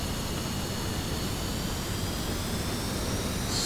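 A C-17 transport aircraft approaches in a flight game set over the Fulda Gap, heard as a steady, loud jet engine roar and whine that fills the whole stretch without letting up.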